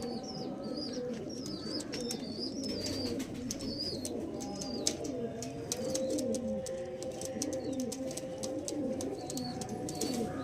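Black Diamond pigeons cooing in a loft, repeated low throaty coos close by over a steady background hum, with scattered higher chirps from other birds.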